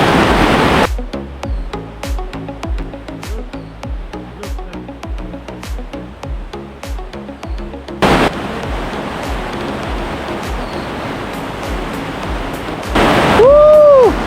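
Rushing water at Ayusai Waterfall in Kazakhstan, a steady broadband roar with rhythmic clicks early on, swelling louder midway and continuing as a dense, close wash, with a brief whistling tone near the end.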